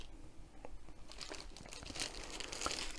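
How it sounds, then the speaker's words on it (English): A plastic bag holding a diamond painting kit canvas is opened, giving steady close crinkling and rustling of thin plastic that grows busier toward the end, with no talking. "So we'll open up the bag."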